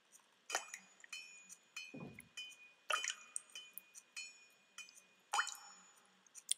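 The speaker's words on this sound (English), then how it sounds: "that dripping sound's making me want to go to the toilet" Dripping water in The Path falls in sparse, clinking drops with a glassy ring, each drop separate and fairly quiet against near silence, joined by one low plop.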